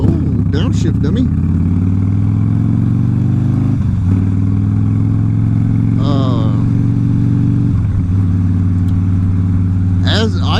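A motorcycle engine hums steadily while riding, with a few brief shifts in engine note as gears change; someone talks over it.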